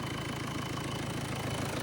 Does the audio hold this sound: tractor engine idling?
yes